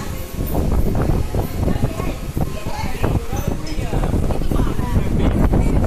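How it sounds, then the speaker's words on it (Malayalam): Strong wind buffets the top of the Pondicherry lighthouse in steady, rough gusts that rumble against the microphone, with people talking underneath. "അസാധ്യ കാറ്റായിരുന്നു അവിടെ"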